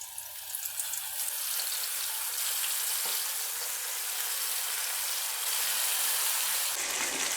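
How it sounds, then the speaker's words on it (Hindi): Marinated chicken feet frying in lightly heated oil over low heat, a steady, close, broadband sizzle and crackle that continues throughout with no voices. "ऑयल को हमने हल्का सा गरम कर लिया है। अब हम फ्राई करेंगे।"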